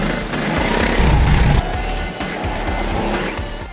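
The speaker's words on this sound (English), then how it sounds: "and the sounds of engines roaring" Go-kart engines roar through a race at Victory Lane, a loud, steady buzzing wash of several karts passing close with tire squeal mixed in, swelling briefly near the middle.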